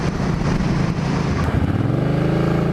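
A Suzuki M50 motorcycle with a freshly adjusted clutch rides at around 50 mph, its engine droning loudly and continuously under heavy wind rush, with the engine note shifting and steadying toward the end.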